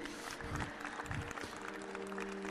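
Church congregation applauding loudly during a Spanish-language sermon, a dense continuous wash of clapping that holds steady throughout.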